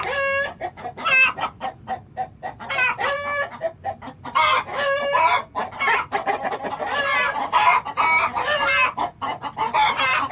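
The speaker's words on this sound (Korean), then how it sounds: "야 이거 시골 닭" Old-style country hens cluck and cackle loudly and repeatedly, close by and shut inside a coop, with a rooster crowing among them in an excited, noisy flock.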